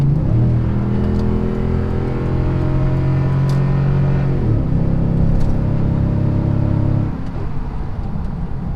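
A Toyota Tundra fitted with a Borla dual exhaust accelerates onto a highway with a loud, steady engine drone whose pitch climbs, drops briefly as it shifts gear, then climbs again before easing off.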